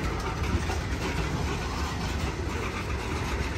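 Norfolk Southern eastbound manifest freight train passing near Elkhart hump yard on a summer evening, a steady loud rumble with continuous clickety-clack of wheels and rail cars rolling by close, no voices.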